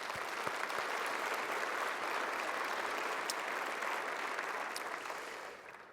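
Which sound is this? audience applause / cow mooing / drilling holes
audience applause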